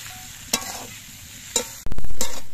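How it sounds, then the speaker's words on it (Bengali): Potatoes and flat beans sautéed with spices in a wok, with a couple of sharp scraping stirs followed by a loud burst of sizzling that slowly fades, close up and without talk. "এবার মশলা দিয়ে আলু দিয়ে শিম দিয়ে আরো কিছুক্ষণ কষিয়ে নিতে হবে।"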